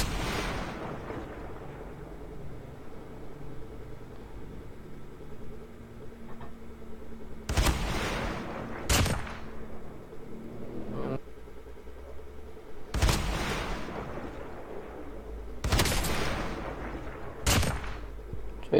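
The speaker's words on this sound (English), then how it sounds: "Hit effect of Thermite Mag and kill effect of rapid" Game gunfire from a Mythic Rytec with Thermite Mag and a rapid vaporization kill effect: several sharp bursts of shots with bright crackling blasts, spaced apart over a low steady background hum.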